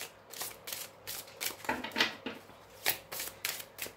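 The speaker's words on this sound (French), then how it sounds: "on va mélanger les cartes" A deck of cards being shuffled up close, with a rapid series of crisp riffling bursts and flicks repeating in an uneven rhythm, quiet and alone.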